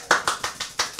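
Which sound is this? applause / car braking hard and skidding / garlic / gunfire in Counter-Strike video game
applause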